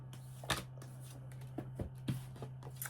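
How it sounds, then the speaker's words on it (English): A tarot card deck is shuffled by hand nearby, a quiet run of soft riffling snaps and slaps in uneven bursts over a faint steady hum. "I'm having a bit of difficulty shuffling this deck"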